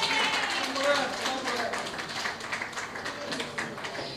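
Scattered applause at a pigeon-racing association's award lunch, honouring the third-place winner; steady clapping runs throughout with voices talking over it.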